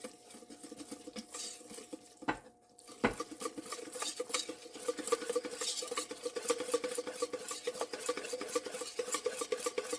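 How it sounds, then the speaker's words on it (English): Bread dough ingredients with honey are whisked in a bowl, a steady scraping and tapping of the whisk against the bowl, close and fairly quiet, with one brief pause partway through. "And whisk that all together."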